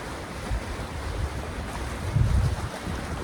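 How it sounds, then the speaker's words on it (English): Ocean waves wash against an artificial shoreline in a continuous rushing surf, with low swells rising and falling and wind buffeting the microphone. "the waves crashing into the shore"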